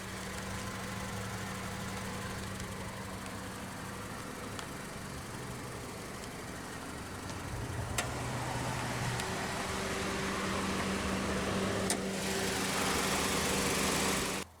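A 2003 Honda Civic LX sedan's 1.7-liter naturally aspirated single-overhead-cam 16-valve inline-4 idles steadily after start-up, a low, even hum heard fairly faint and alone.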